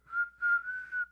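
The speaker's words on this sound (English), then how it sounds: "You can still whistle it." Someone whistles alone, close and clear: a short steady note, a pause, then a longer sustained tone with a slight waver that ends in a final short burst.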